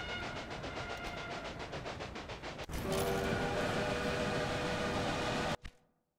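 Train running at speed in Railway Empire: a continuous close rumbling roar with a rhythmic clickety-clack of wheels, then a brief break and a louder, steadier rush that cuts off abruptly near the end.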